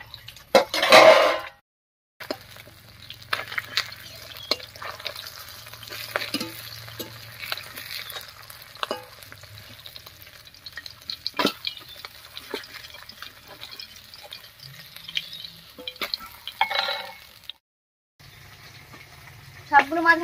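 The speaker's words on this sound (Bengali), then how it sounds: "এই কটা মাছ ভাজা হয়ে গেছে, নামিয়ে নিচ্ছি, আর একইভাবে বাকিগুলো ভেজে নেব।" Pabda fish frying in oil in a home kitchen, a steady soft sizzle with scattered pops and stirring clatter running throughout, with brief quiet gaps.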